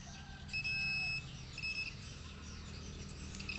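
Short high electronic beeps from a multimeter in continuity mode sound during a check of an LG TV board, two or three clear tones over a faint room hum.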